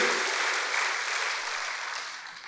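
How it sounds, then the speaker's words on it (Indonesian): A church congregation breaks into enthusiastic applause, a dense wash of clapping that stays loud and steady before gradually fading over a few seconds. "Berikan tepuk tangan bagi Tuhan, haleluya."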